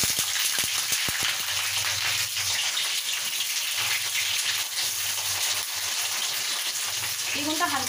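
Eggplant pieces fry in hot oil seasoned with black cumin, giving a steady, close sizzle and crackle that runs continuously, with a few clinks near the start.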